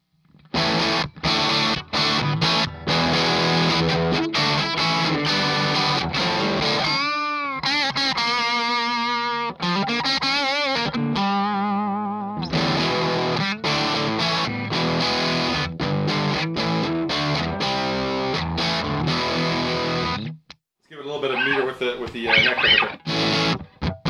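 Heavily distorted electric guitar through a Marshall amplifier turned up near maximum volume, loud and continuous with chugging chords, sustained notes, brief gaps and squealing bends, fading at the end before a last scrappy burst.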